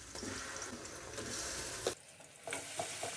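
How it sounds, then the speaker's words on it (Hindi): Garlic ginger paste fries with browned onions in a pan for Afghani pulao, a busy close sizzle with stirring scrapes that drops off briefly midway before the sizzle returns. "लहसुन अदरक का पेस्ट डालने के बाद हम इसको 1 मिनट फ्राई करेंगे।"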